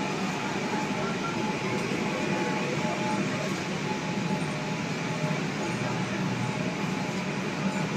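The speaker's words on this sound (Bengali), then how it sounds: "এই ট্রেনটি এখন আবার চলে যাবে।" A Kolkata Metro train pulls out of Esplanade station with a steady, loud rolling rumble and hiss of rail transport that holds unbroken throughout, close by on the platform.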